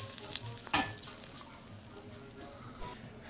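Sauce hits a cooked steak in a hot pan and sizzles with a sharp crackling burst, then settles into a softer, steady frying hiss.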